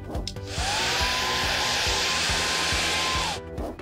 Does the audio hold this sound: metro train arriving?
no